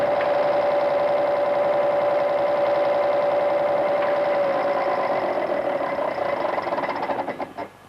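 A diesel engine with one fuel pump barrel and plunger out of calibration runs as a loud, steady mechanical drone and knock that holds evenly, then wavers and fades in the last second.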